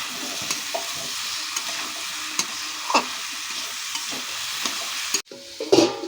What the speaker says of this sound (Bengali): এবার সবগুলোকে আবার একটু ভালো করে ভাজবো আমরা।